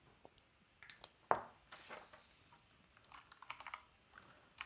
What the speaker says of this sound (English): That's what I'm going to type into R.